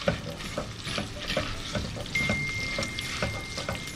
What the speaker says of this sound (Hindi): अब प्याज को मुझे करना है गोल्डन ब्राउन, गोल्डन करना है, ब्राउन डार्क नहीं करना।